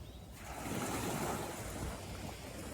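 Surf washes steadily against the beach at sunrise in Bucerias, a continuous soft roar of breaking and receding water with light wind noise and no voices.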